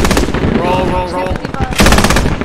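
A ZU-23 anti-aircraft gun fires in a 40v40 squad war game during a bridge defense. Loud, rapid bursts open and close the moment, with a voice briefly heard between them.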